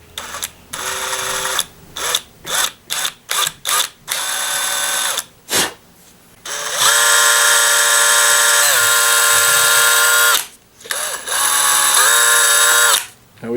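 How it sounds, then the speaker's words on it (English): Electric drill boring a small hole into a chainsaw handle: several short whining bursts with pauses, then a long sustained high-pitched run, stopping and restarting near the end. "we're going to go ahead and drill a small hole and then work our way up to a larger one"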